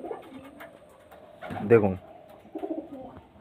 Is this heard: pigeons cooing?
yes